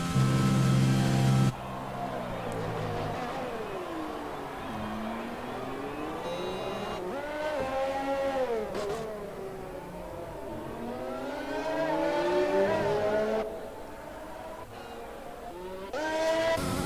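An F1 2020 racing car on a fast lap in the video game, its high-pitched engine whine rising and falling steadily through gear shifts and corners, loud and continuous.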